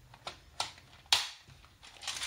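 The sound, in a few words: pushing pegs out of the Happy Jig tool with a thimble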